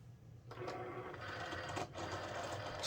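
A Cricut cutting machine draws in taped-down material, a faint, steady mechanical whir with a few small clicks, starting after a short quiet moment.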